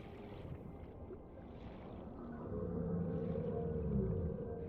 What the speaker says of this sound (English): It sounds like a whale down there.